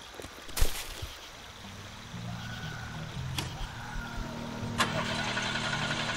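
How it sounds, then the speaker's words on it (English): A car engine cranks and starts, then settles into a steady low idle, heard fairly quietly amid background noise and a few sharp clicks or knocks. "Start the fucking engine!"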